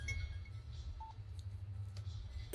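A telephone being dialed in the film Ghajini: one short keypad tone over a low, quiet background rumble.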